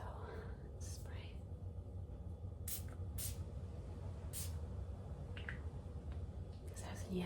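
An ylang-ylang essential oil spray bottle gives several short, sharp misting spritzes close by, spaced a second or so apart, over soft whispered talk.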